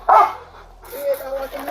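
A police dog barks loudly in a short burst at the start during a tense police encounter, then quieter voices and background noise follow.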